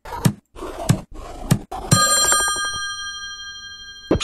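Telephone ringing in the puzzle video game Slayaway Camp, several short electronic rings at an even pace followed by a sustained chiming tone that fades, with one last ring at the end; clear and upfront with no talking.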